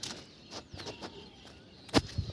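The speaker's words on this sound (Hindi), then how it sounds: "चारों तरफ देख सकते हैं चिड़िया चहचहा रही हैं" Birds chirp outdoors in the morning near a temple, with a few short, thin calls scattered over quiet ambience and one slightly louder chirp toward the end.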